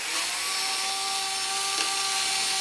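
A power drill whines steadily while taking screws out of a Losi 5T large-scale RC car during a teardown, a close, even motor hum with a brief surge near the end and no talking.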